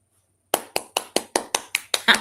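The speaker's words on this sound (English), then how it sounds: "Agama, clap for yourself." Eight sharp hand claps in a steady, slightly quickening rhythm after a brief silence, close and crisp, with no talking.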